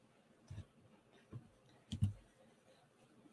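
A few sparse, quiet clicks from typing on a computer keyboard, spaced irregularly in a faint, otherwise still room.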